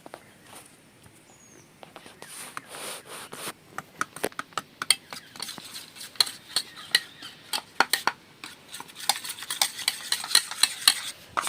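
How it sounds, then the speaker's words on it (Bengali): A spoon stirs food colouring into boondi batter in a bowl, giving soft irregular scrapes and taps that grow busier and more frequent toward the end, close up and fairly quiet, with no voices. "ফুড কালারটা বেশ ভালো করে মিশিয়ে নেব"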